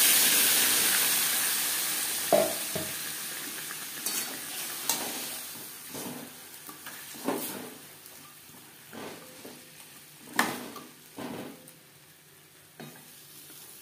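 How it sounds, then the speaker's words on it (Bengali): Marinated chicken frying in oil in a kadai over high flame for an alu mutton-style curry: a loud initial sizzle that gradually settles, broken by repeated stirring scrapes and clinks, with no voices. "আলু ভেজে নেওয়া কড়াইতে আবারও তেল দিয়েছি। দিয়ে দেব ম্যারিনেট করে রাখা আমার চিকেন।"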